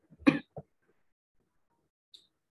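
A single short cough, close and fairly loud, followed by a small throat sound and then near silence.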